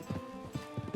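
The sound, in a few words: horse hooves in Red Dead Redemption 2 video game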